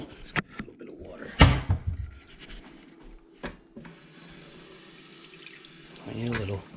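Water from a kitchen tap running briefly after a few knocks and clatters, a close steady hissing rush that ends with a short burst of talking.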